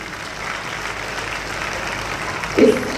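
Sustained applause from an audience at a public ceremony and book release event, a dense, even wash of clapping, with a brief louder bump near the end.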